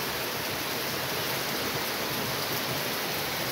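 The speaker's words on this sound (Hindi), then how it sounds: "बहुत ज़्यादा बारिश लगी है" Steady, dense hiss of heavy rain pouring continuously over farm fields, loud and even throughout with no pauses or voices.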